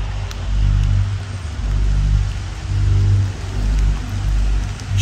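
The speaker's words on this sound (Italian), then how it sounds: "sta cominciando a piovere" Rain begins to fall in a cemetery, a steady wash of patter over a rumbling low background that swells and eases in waves.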